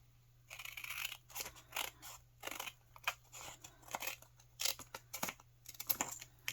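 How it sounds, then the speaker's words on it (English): Scissors snip off the edge of paper in a papercraft project, a rapid series of small crisp cutting clicks and rustles, close and quiet, with no talk. "all I have to do here is cut off the edge."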